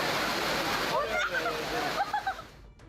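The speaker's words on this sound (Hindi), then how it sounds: "सड़क पर बारिश का पानी इतनी तेज रफ्तार में बह रहा था मानो कोई बड़े नाले का प्रवाह हो।" Rainwater rushing fast along a flooded road after heavy rain, a dense continuous roar of churning water with splashing surges, loud and close throughout.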